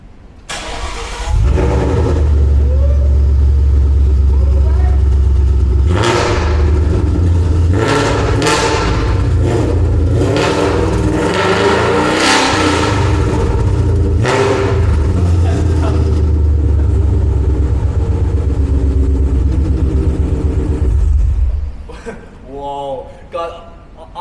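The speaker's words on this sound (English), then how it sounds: "We're gonna rev this engine." A 2017 Ford Mustang's 5-litre engine cranks and starts, then roars through loud revs and a steady idle close by, before cutting out; a voice speaks briefly at the end.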